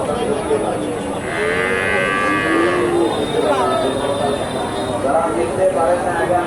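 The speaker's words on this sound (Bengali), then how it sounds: "এখানে একটা দেখেন মাশাল্লাহ সুন্দর একটা ষাঁড় বাচ্চা ছোট" A young bull calf at a busy cattle market gives one drawn-out moo in the middle, set against a steady din of crowd chatter and market noise.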